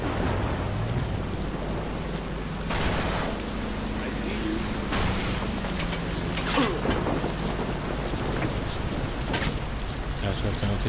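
Steady rain rendered in a CryEngine video game, a dense, even hiss of falling water with faint tonal engine-like hum underneath, continuous throughout with brief louder bursts.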